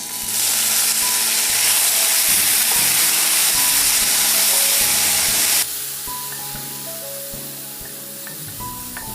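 Pineapple pieces frying in hot ghee give a loud, dense sizzle and hiss. Partway through it suddenly drops to a softer, steady crackle.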